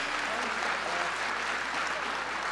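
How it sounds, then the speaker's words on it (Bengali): An audience in a hall applauds at an event, steady sustained clapping from many hands throughout. "জোরে একটা হাততালি হয়ে যাক।"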